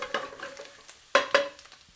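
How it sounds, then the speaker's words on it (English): Garlic and herbs fry in fat in a pan for a bagna cauda sauce, a soft steady sizzle broken by a few sharp utensil scrapes and clacks of stirring, close by with no talk. "They're frying a little bit, but they're turning bright green."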